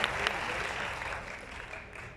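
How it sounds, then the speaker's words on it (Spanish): A concert crowd at a symphonic tribute keeps up a continuous round of applause, full and even with a slight fade, and faint voices mixed in. "Todos esos aplausos"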